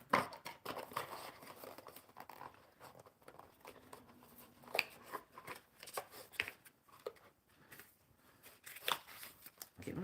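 Playing cards are shuffled by hand up close, a quiet run of rapid riffling flutters and soft taps coming in uneven bursts, with no talk.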